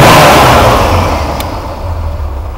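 A road line striper's engine idles slow and steady nearby, a low rumbling drone that starts louder and settles, with one brief sharp click partway through.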